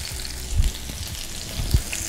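Salmon fillet pan-searing in hot oil, a steady close crackling sizzle with a couple of louder pops or thuds, heard alone without talking.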